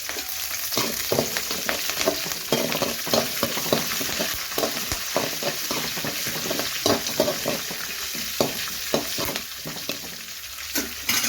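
Green chillies and curry leaves fry in oil with a steady close sizzle, broken by frequent sharp crackles and spatters as a spoon stirs through the pan.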